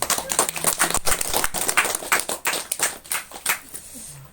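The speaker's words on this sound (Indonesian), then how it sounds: "Mungkin tepuk tangan dulu untuk kita semua itu." Audience applause at a community group business launch, a dense patter of many hands clapping for a few seconds, fairly loud and close.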